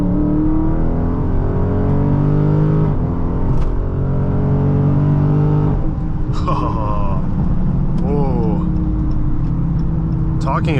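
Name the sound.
2022 Dodge Charger Scat Pack 392 accelerating hard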